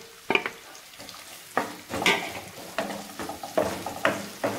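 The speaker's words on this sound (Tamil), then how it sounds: "வெங்காயம் கருவேப்பிலை சேர்த்து நல்லா இதை வதக்கணும்." Onions and curry leaves fry in hot oil for a brinjal and peanut masala, with a steady low sizzle broken by repeated scraping stirs of a spoon in the pan, close and moderately loud, with no voices.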